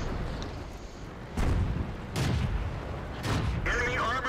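The main gun of a Ram II medium tank fires in World of Tanks: several heavy booms with rumbling decay, spaced about a second apart over a low battle rumble, with a voice talking in the background.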